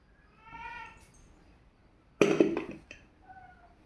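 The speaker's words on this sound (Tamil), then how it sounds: "பூனை வேறு கத்திக்கிட்டே இருக்குது." A domestic cat meows several times in a kitchen, short plaintive calls spaced apart, fairly close, with a louder clatter midway.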